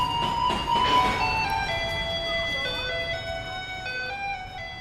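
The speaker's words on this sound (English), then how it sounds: "this is what a garbage truck in Taiwan sounds like" A Taiwanese garbage truck plays Für Elise as a bright electronic melody, its tune steady and moderately loud over a low street rumble.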